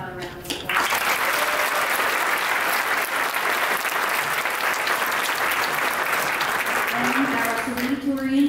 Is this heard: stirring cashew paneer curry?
no